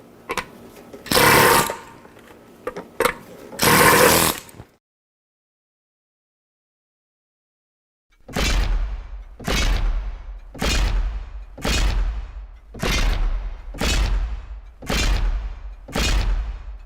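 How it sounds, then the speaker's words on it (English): A pneumatic hammer strikes a hard hat in a series of sharp, loud metallic bursts: two long rattling blasts early on, then after a silent pause, eight evenly spaced percussive hits in steady rhythm. "I take the pneumatic hammer and show how the suspension system of the hard hat works"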